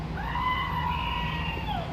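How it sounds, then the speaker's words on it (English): A screaming goat sound effect played from a button: one drawn-out, wavering, human-like bleat that rises and then falls, lasting about two seconds and heard loud and alone. "Screaming goat button."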